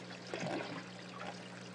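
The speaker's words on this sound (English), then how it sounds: "A little bit of gargling." Water gargles and trickles as it drains through an aquarium U-tube overflow box, a soft, steady bubbling flow over a faint low hum, close and quiet.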